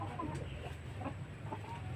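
Heritage chickens starting to lay give soft, scattered clucks over a constant low background hum, faint and moderately near.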